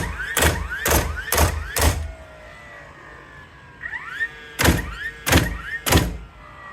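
A 20V cordless framing nailer fires in multi-nail mode, giving sharp, loud close-up bangs in two quick runs of four and four, each shot followed by a short whirring motor reset, with no talking.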